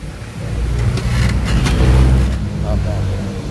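A Nissan Terra engine runs after its turbo actuator has been replaced, a steady close mid-pitched hum with a slight rise in the middle, while a person talks over it.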